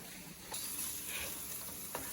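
An egg frying in a pan for a breakfast bowl, a steady close hiss and sizzle with a small pop near the end, no talk.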